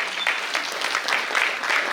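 An audience claps for a woman invited onstage at a memorial theatre festival and honours ceremony, a steady, fairly dense patter of hands lasting throughout without pause.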